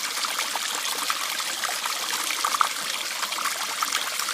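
Stream water trickles steadily through a Katadyn hand-pump filter during a bush hike in Australia, a soft continuous close dribble with faint bubbly splashes and no talk.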